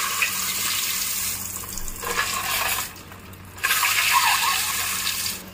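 Boiled eggs go into hot turmeric-tinted oil, and a steady, close sizzling hiss results. It dips briefly midway before surging back louder and continuing unbroken.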